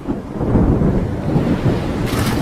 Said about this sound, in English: And now the rain pours.